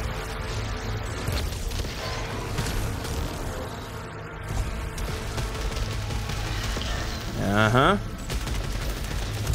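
Turret fire in the video game Returnal, a dense, continuous fusillade of game gunfire and booms under a player's brief spoken reply, with a rising sweep of sound effects near the end.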